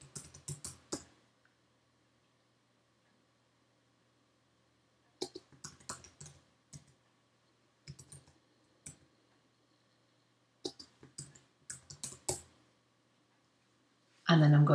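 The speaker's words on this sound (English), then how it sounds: "I'm going to highlight everything and hit the delete key on my keyboard" Computer keyboard keys are typed and tapped in short, sparse bursts of clicks separated by quiet gaps, close and fairly faint, ending with a louder thump.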